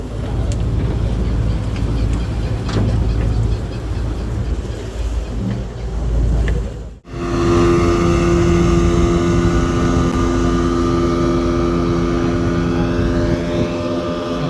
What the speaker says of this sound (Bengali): ভোলার উদ্দেশ্যে একটা স্পিড বোট গেল আর একটা আসতেছে